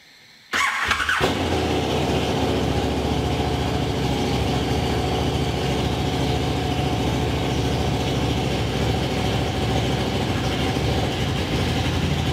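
A KTM 1290 Super Duke motorcycle with an Austin Racing exhaust and disabled exhaust valve starts up abruptly and settles into a loud, steady, close idle that continues unbroken.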